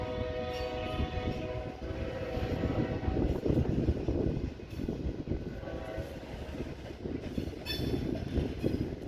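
Two freight trains, one westbound and one eastbound, pass each other in Fremont, with a continuous heavy rumble of wheels and rail cars and horn tones sounding through the roar for the whole stretch.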